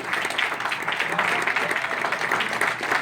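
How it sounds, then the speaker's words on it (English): An audience claps at a business launch event, a moderate steady patter of hands with some crowd murmur and voices underneath. "Clap it up."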